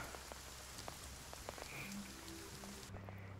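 Steady rain falling in the video game Will To Live Online, a dense continuous patter of drops on surfaces, moderately faint and even throughout, with no voices.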